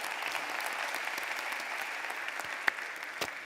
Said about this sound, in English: Please join me in giving a big round of applause for our esteemed panelists.